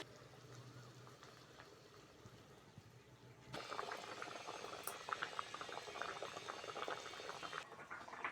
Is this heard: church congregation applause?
no